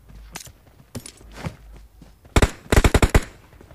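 Gunfire in the mobile battle-royale game PUBG Mobile, with a few isolated shots followed by a rapid loud burst of automatic rifle fire, close and dominant.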